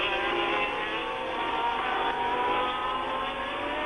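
A 1979 Ferrari Formula 1 car at the French Grand Prix climbs uphill at full throttle, its engine giving a loud, steady, sustained roar close by.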